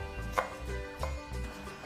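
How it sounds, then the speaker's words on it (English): A knife slices through an onion on a cutting board, a few close, firm chops with soft thuds and crisp crunches spaced across a couple of seconds, no voices. "After that, just slice it and then it's gonna be diced nicely."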